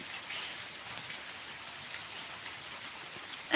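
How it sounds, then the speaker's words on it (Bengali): Rain falling beside a veranda, a soft, even patter of drops with a few closer drips, steady and fairly quiet with no talking. "এখানে বৃষ্টি হচ্ছে বারান্দাটায় বসে আছি দেখলে সোনালি ভাই"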